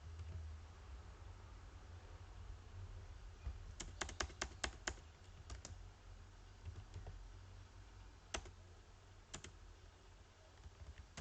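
Computer keyboard typing code, a few quick bursts of close, crisp key clicks over a steady low hum, with pauses between the clusters.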